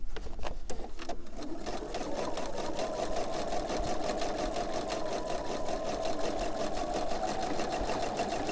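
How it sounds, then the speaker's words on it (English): A sewing machine runs a regular stitch along fabric sewn over clothesline rope, a steady fast mechanical whir with rhythmic needle clatter that carries on evenly throughout. "I'm going to do my regular stitching"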